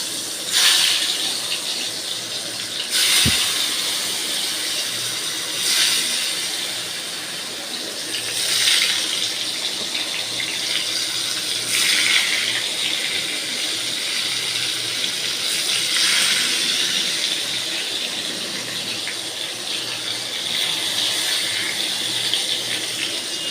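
Eggplant and potato pieces, rubbed with salt and turmeric, sizzle steadily in oil in a kadai, a continuous close hiss with regular surges every few seconds.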